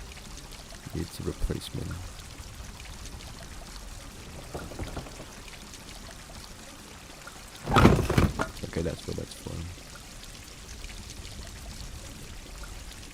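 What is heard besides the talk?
water pouring in Grim Legends video game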